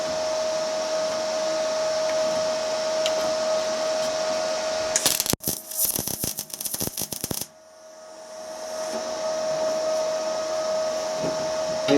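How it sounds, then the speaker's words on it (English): An R-Tech MIG180 MIG welder running 1.6 wire tack-welds rusty metal, a loud crackling, sputtering burst of about two seconds that cuts into a steady hum of machine and room noise. "We'll see if we can get that welded back on. We'll just get a tack on it first to hold it in place."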